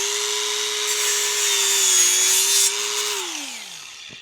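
Angle grinder cutting through a part of a cheap 72-volt electric dirt bike, a loud steady high-pitched whine with grinding hiss that holds for about three seconds, then winds down in pitch as the disc slows.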